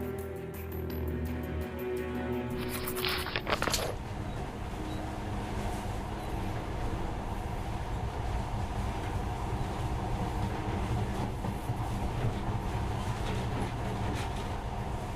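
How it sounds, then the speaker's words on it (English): A monorail train in the Metro video game gives a steady, loud rolling rumble throughout, with a brief tonal whine and clatter at the start before the even running noise settles. "In the past, trains were ordinary things. But now, this monorail seems magic, doesn't it?"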